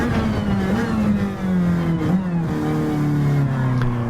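A racing car's engine in a video game revs and accelerates with a steady, buzzing mid-pitched drone that rises and shifts through gears, loud and close, with faint talk underneath.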